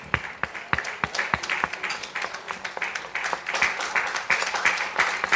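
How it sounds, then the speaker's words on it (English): Applause fills a hall at an award ceremony and dinner night as an honoree is celebrated. Many hands clap in a dense, continuous patter with sharper individual claps poking through, and it holds steady throughout. "Please, a round of applause for her."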